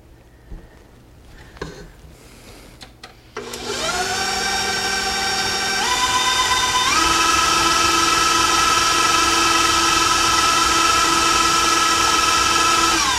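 An electric mixer blending butter cake batter for gooey butter cake starts up after a few seconds of quiet handling noises, then runs with a loud steady motor whine that shifts up in speed twice, close by and without talk.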